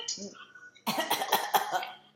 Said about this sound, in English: Can you cough for me?